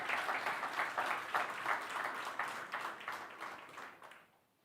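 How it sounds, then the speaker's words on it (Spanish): A church congregation claps rhythmically in praise at a Spanish-language service, a steady moderately loud applause that fades out at the end. "Dale un aplauso al Señor"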